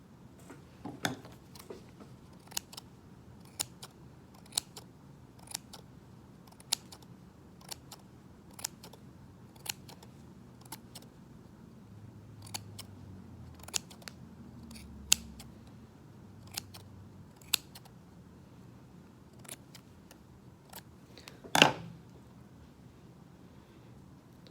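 Scissors snip repeatedly while trimming a small yarn pom pom shaped like an emoji face, giving about fifteen crisp, evenly spaced close-up cuts over a quiet background, with one louder handling clatter near the end.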